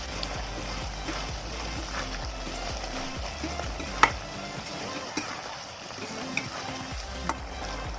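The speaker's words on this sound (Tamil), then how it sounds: "மிளகு நல்லா சிக்கனில் வந்து கரையிறதுக்கு ஒரு வாட்டி நல்லா கிண்டி விட்டுறணும்" Mint chicken with black pepper sizzles steadily in a pan while it is stirred, with occasional light scrapes and clicks of the utensil over the constant frying hiss.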